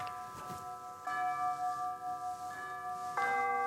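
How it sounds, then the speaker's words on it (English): Tolling bells from Puccini's opera Tosca, a slightly less distant bell than the first, sound in three resonant strikes about a second apart, each ringing out with long sustained overtones and no voices. "This next bell is a little closer,"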